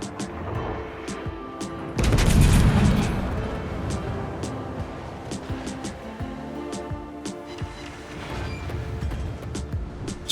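HMS Incomparable's warship guns fire at a Chapaev cruiser in World of Warships: a loud broadband boom rolls out over a steady engine and sea bed, with sharp distant shell impacts crackling afterward.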